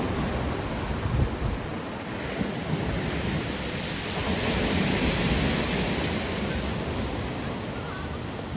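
Sea waves breaking and washing on Bytkha beach in March, a steady, loud, broadband roar of surf with some wind buffeting the microphone, continuous throughout with no voices.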